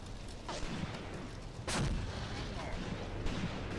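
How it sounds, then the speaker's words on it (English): Heavy artillery booms from a battle in the game Graviteam Tactics: Mius Front, several thudding blasts with a big one near the middle, over a constant rumbling background of distant fire. "That is the sound of artillery, guys."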